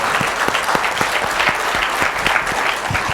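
A lively crowd claps loudly for a speaker named Rajesh at an Indian seminar event, with some individual claps standing out sharply above the continuous applause.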